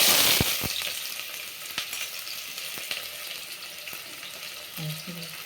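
Onions fry in a pan with cinnamon sticks, cardamom pods and peppercorns for a goat-head curry, giving a steady close sizzle with a few sharp clinks of stirring and a short voice near the end.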